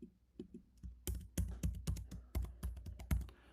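Someone types a user password on a computer keyboard during a virtual machine setup, producing a close, irregular run of crisp key clicks that grows quicker and louder partway through, with no speech.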